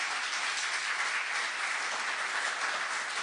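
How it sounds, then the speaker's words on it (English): Applause from the audience at an academic roundtable, a dense, even wash of many hands clapping that holds steady and fairly soft throughout. "Can you give like a massive round of applause?"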